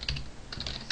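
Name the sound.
typing code on a computer keyboard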